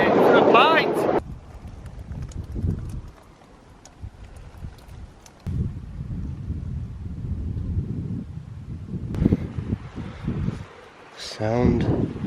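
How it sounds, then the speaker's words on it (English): Cold winter wind buffets the microphone in a Lake District valley near Patterdale, a steady low rushing roar with gusty swells, louder bursts at the start and end, no talk heard. "that wind through that valley is a bit biting"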